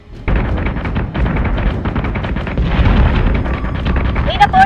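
A Base Star blows up in the space combat game Battlestar Galactica Deadlock, a loud sustained rumbling explosion that swells and rolls on for several seconds, ending with sharp crackling bursts.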